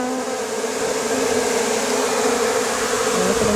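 A swarm of honey bees buzzing close by, a thick continuous drone with a steady hum that stays even and loud throughout, no talking.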